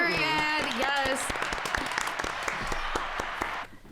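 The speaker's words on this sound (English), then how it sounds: "Let's just give a round of applause for that story." Dense applause and clapping from a high school audience, running steadily for a few seconds over voices at the start before cutting off.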